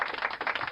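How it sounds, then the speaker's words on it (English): A short burst of applause, dense overlapping claps with no voices, steady and fairly close. "Let's give him a great big round of applause for that."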